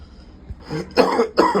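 Two harsh, loud coughs close up, the second following quickly after the first, with no talking.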